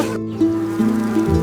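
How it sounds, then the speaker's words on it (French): Bees buzzing steadily in a children's song setting, a continuous droning hum that wavers slightly in pitch throughout, close and fairly loud with no voices. "Les abeilles bourdonnent tranquillement partout."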